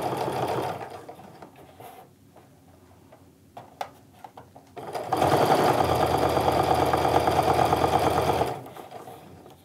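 A sewing machine top stitches a fabric wristlet in two runs, a short whirring burst first, then a loud, steady mechanical hum for several seconds, with a few light clicks between them.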